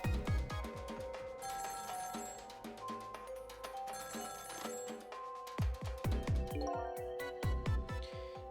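A telephone rings in the video game Ghost Trick, with repeated electronic bell trills over a dense game music track and percussive hits, loud and without speech.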